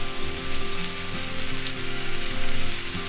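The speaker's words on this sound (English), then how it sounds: "Once your onions are really nice and caramelized, you're going to add your mushrooms." Mushrooms fry in a pan over caramelized onions, giving a steady, dense sizzle with crackling spatter throughout and a faint pulsing rhythm, close and moderately loud with no talking.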